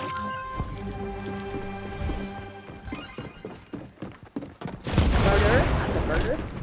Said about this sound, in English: I'm dodging all your shots